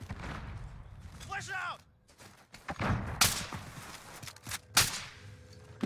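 Sharp bursts of gunfire from a Call of Duty multiplayer match crack out in several separate shots over game ambience, with one loud report standing out near the end and a voice briefly heard in between.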